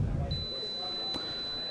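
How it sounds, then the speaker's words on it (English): A single thin electronic beep from a wireless fencing scoring body pack holds steady for more than a second, with a brief click partway through and faint room noise underneath. "our body packs make a beeping sound"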